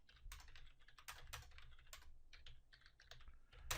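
Rapid keystrokes clatter on a computer keyboard, an irregular run of light clicks and taps, close but very quiet, with no voices.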